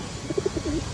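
Pigeons coo in a short close burst of soft, low throaty notes, a few quick pulses ending in a longer rolling coo.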